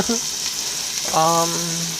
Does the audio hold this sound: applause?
no